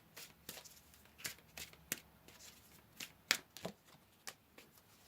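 Tarot cards shuffled and pulled close by, a run of crisp, irregular papery flicks and snaps with brief riffles in between, quiet and clear with no talking.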